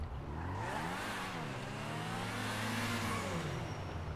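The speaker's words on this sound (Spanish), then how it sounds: "Vamos a ver la salida de este carro." Pegassi Torero sports car in GTA 5 accelerating from a standstill, its engine whirring up through rising revs with climbing harmonic tones, loud and continuous with no talk.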